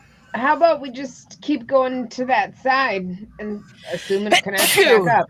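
A single sharp sneeze bursts out at the end of a stretch of conversation among tabletop Dungeons & Dragons players, loud and close, with someone talking just before it.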